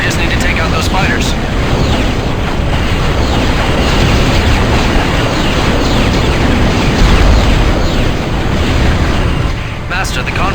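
Mortar barrage in the Star Wars The Clone Wars PS2 video game: loud, continuous explosions and booming blasts roll together with aircraft roar in a thick, unbroken wall of battle noise, and voices can be heard beneath it.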